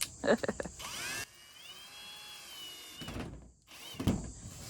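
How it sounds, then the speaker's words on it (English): A power drill drives new screws into a window frame on a 1966 Shasta Compact travel trailer, giving short whirring bursts separated by quieter pauses, close by, with a faint voice briefly present. "New screws going in."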